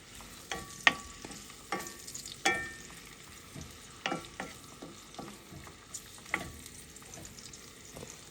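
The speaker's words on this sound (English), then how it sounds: "I'm just going to saute those up just a little bit." A small red onion and a small sweet pepper sauté in oil in a pan while a turkey lasagna is being made. A faint, soft sizzle runs underneath, broken by sparse, irregular clicks and scrapes of a stirring utensil. No one speaks.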